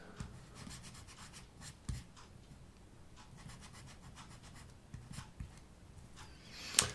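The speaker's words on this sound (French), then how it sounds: "je vais quand même foncer davantage avec ce pinceau à fibre de verre" A fiberglass brush with its bristles drawn in tight scrubs over a painted surface, producing close, quiet rhythmic rasping strokes with a few sharper scratches toward the end.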